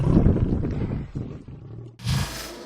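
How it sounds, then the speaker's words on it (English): A lion charging in the wild gives a deep, rough roar up close, then a short pause and a second loud burst. "So the lion came dashing at them and stopped at the last minute."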